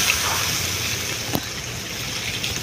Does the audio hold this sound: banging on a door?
no